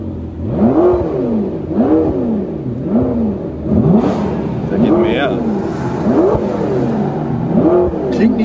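A Porsche engine is blipped again and again, each rev swelling and dropping in a rhythmic series of loud, close surges roughly once a second, with people talking around it.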